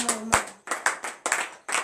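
A congregation claps during a Beninese morning prayer service, with loud, rhythmic bursts of hand claps coming in quick groups, roughly three clusters evenly spaced, with a faint voice underneath.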